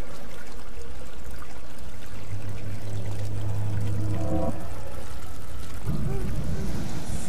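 Shower water runs in the horror video game Amnesia, a steady loud pouring and splashing with a low droning tone mid-way, continuous throughout.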